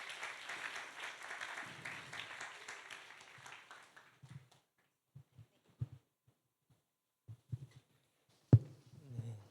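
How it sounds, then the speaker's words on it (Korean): Church congregation at a young adults' worship service applauding as a new cell member steps forward; dense clapping for about four seconds, then fading into scattered taps and small thumps. "여러분 큰 박수로 환영해 주세요."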